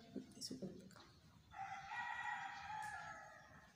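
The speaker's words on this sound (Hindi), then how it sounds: "मुर्गे की आवाज़ आ रही, कितनी प्यारी लग रही है" A rooster crows in the distance just after sunrise, one long drawn-out call, preceded by a few soft clucks and faint outdoor background noise with birds.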